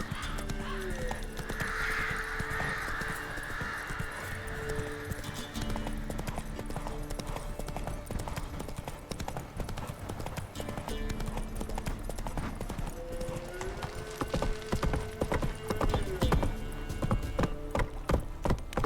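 Roach the horse galloping in the open world of the video game Witcher 3, hooves clip-clopping in a fast, steady rhythm throughout, with game music and an occasional neigh underneath.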